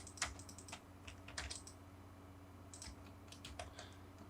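Quiet clicking of keys on a computer keyboard while entering commands in AutoCAD, a few quick taps in two short bursts with a pause between, including a press of Enter.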